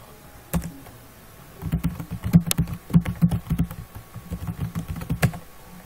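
Keys clatter on a computer keyboard as a command is typed: a single tap, then a close, quiet run of irregular keystrokes lasting a few seconds, with no talking.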